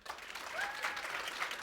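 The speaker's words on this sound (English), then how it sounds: "Applaud if you'd rather live in the Bone Season world." An audience at a book event claps together, a dense burst of applause that swells and holds steady across the moment, moderately close and without speech over it.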